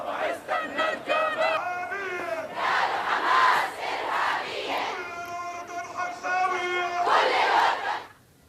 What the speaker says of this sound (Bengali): ফিলিস্তিনের পতাকা হাতে যুক্তরাষ্ট্র বিরোধী স্লোগান দেয় বিক্ষোভকারীরা